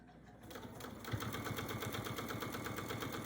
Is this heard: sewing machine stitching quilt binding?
yes